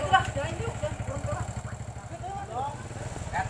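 A motorcycle engine runs close by with a steady, low, pulsing throb that continues throughout, while voices talk over it.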